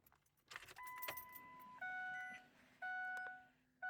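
A Ford Powerstroke truck's ignition key is turned on with a brief jingle of keys, then a series of clear electronic chime tones sound in steady, repeated steps close by.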